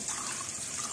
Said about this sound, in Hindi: 1 glass पानी डाल देंगे ताकि मसाले अच्छी तरह से इसमें पक जाएं